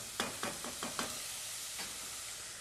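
Onions sauté over low heat for a marinara sauce, a steady soft sizzle under several quick spatula scrapes in a short burst, then one more stir a moment later.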